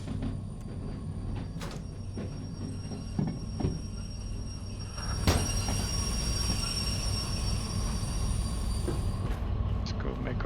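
A freight train pulled by D6 diesel locomotives on a mine-to-steel-mill haul in the railway game Derail Valley brakes to a halt. Wheels squeal shrilly over a rumbling roll, with scattered clanks and thuds from the cars.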